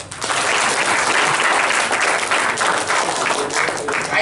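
Loud, sustained applause from a seminar audience at a workplace talk, dense clapping that fills the whole stretch without a break and with no voice over it.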